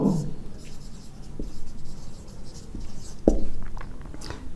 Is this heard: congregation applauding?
no